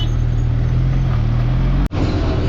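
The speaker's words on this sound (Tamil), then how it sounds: "செம்ம டிராஃபிக் ஆச்சுடா" Heavy traffic with trucks on a highway during a motorcycle ride in India, riding in the right lane: a loud, steady low rumble of engines and road noise that drops out briefly near the end, then resumes.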